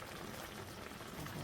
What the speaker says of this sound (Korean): 이렇게 끓고 있습니다